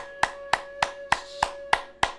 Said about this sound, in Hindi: 5 मिनट कस के आप ताली बजा के एकदम झोंक से चोट लगना चाहिए